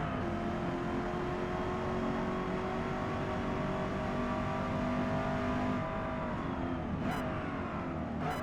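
Corvette E-Ray C8 in Forza Motorsport 8 on the Nürburgring GP circuit, its engine droning steadily with shifting harmonic tones as it slows for a tight corner, a steady loud whir filling the whole stretch without any talk.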